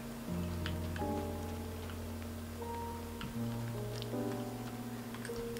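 Light rain patters in the Fae Farm game world, faint ticking drops scattered under steady sustained musical tones, with no voices.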